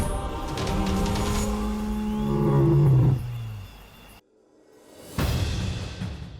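An African lion roaring in the wild, a loud, deep, drawn-out roar that swells and then fades into near silence before a rumbling burst returns, with no talk over it.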